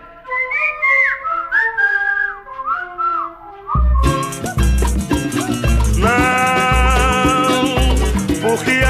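Melodic human whistling opens a 1977 samba recording, a lilting solo tune that is soon joined by loud full band accompaniment with driving percussion.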